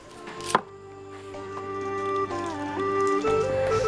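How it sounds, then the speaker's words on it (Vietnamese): Green bark of the giang plant being chopped into small pieces with a knife, several quick cuts over a low background hum, close and moderately loud. "mình lấy cái vỏ xanh xanh ra xong lại thái nhỏ ra để nấu"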